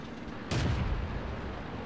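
A single heavy shot from a Matilda tank's gun in a tank battle video game booms out once, close and loud, then fades into a steady engine rumble.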